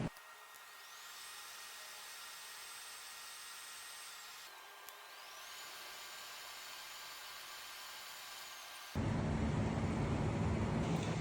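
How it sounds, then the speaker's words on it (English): MIG welding with a Miller welder on metal joints in a fabrication shop: two long steady buzzing weld runs with a short pause between them, then a louder, harsher burst of noise at the end. "Now we're gonna get it welded out."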